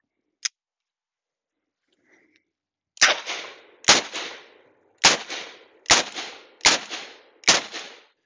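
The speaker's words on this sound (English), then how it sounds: "44 Magnum, not the most powerful handgun in the world, but it'll wake you up in the morning." Six loud .44 Magnum handgun shots fired at close range into self-healing plate targets, arriving in a quick, fairly even series of sharp cracks with short ringing tails, preceded by a brief faint click.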